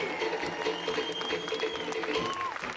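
A crowd applauds the servers and staff at a Polynesian dinner show at the Hyatt Regency Maui, with steady sustained clapping mixed with cheers and a sustained musical tone underneath.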